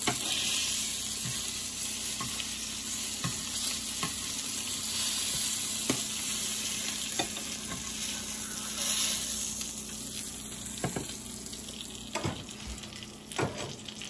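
Pork cutlets sizzle in a pan with a steady hiss, punctuated by scattered crackles and pops.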